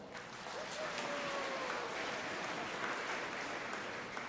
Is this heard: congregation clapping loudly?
yes